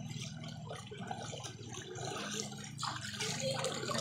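Shallow stream water rushing and splashing around a bather in a river, a steady close broadband flow throughout with no talk.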